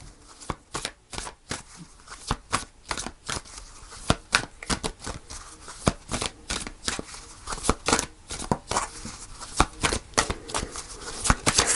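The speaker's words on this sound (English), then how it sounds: "So I'm going to pull a final card." Tarot cards being shuffled by hand, a dense run of quick crisp riffles and slaps in an uneven rhythm, close and fairly quiet, with no voice over it.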